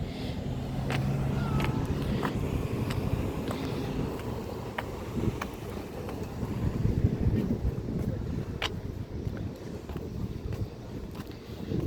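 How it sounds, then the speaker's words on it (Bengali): Strong seaside wind buffets the microphone with a continuous low roar and occasional gusts, steady throughout with no voices. "মানে প্রচুর বাতাস"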